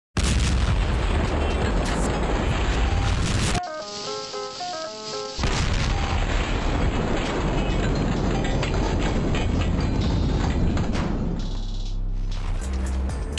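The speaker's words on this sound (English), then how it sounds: "Explosion in C major." A slow-motion film explosion from Atomic Blonde: a loud, sustained booming roar, broken by a few seconds of clear ringing musical notes before the heavy rumble resumes and carries on to the end.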